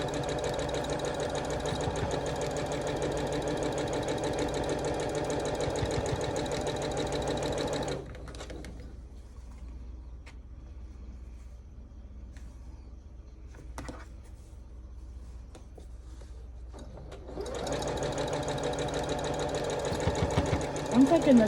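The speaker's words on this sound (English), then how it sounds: "We're gonna sew all 19 of these together." A sewing machine joins quilt blocks together in long, steady stretches of rapid mechanical chatter. A quiet pause in the middle carries faint handling clicks before the stitching starts up again, close and loud.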